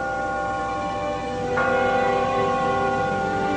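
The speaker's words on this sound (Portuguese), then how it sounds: "ao olhar o sino da igreja e mal escutar o seu badalar" A church bell rings steadily with long, overlapping tones, a fresh strike around the middle renewing the resonant hum.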